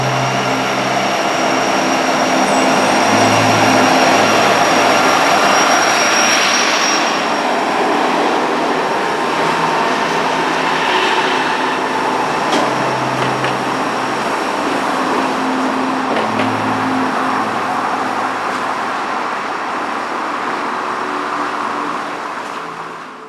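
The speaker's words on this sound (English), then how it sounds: "the very original Norfolk Southern manifest that we had seen parked suddenly appeared around the curve as it continues" A Norfolk Southern manifest freight train rounds a curve heading north, a loud, sustained rumble and rattle of wagons rolling past steadily for the whole stretch, with no talking.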